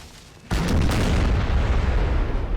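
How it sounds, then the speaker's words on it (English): A 10-pounder cannon fires in the Napoleon: Total War strategy game, a single sudden heavy boom after a quiet half second, followed by a long loud rumbling roll of battle noise. "I'm going to say it's a 10-pounder cannon"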